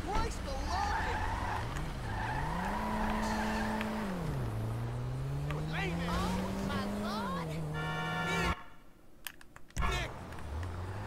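Cars driving and skidding in the video game GTA 5, with a steady engine drone that rises and falls in pitch and tire squeals over it, running under talk before a brief drop near the end.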